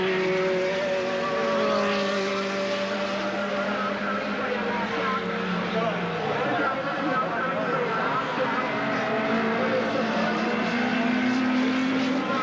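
Classic race cars lap the Wallerfield circuit in Trinidad, their engines a continuous, moderately distant roar with rising and falling pitch as cars pass, under an announcer's steady commentary.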